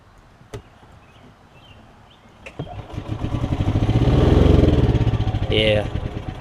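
A Yamaha golf cart engine in need of a carburetor drain and clean clicks, then fires and runs, its chugging note swelling louder before easing off slightly, heard up close.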